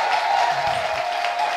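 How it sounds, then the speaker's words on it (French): Audience applauding at a church-style gathering as women rise to their feet, a steady broad wash of clapping and crowd noise lasting throughout, with faint murmuring beneath. "les femmes se lèvent pour applaudir"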